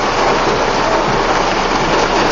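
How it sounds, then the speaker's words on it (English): Heavy rain pours down outdoors in a steady, dense hiss that fills the whole stretch without a break, loud and close, with no voices over it. "it's raining like heck out here"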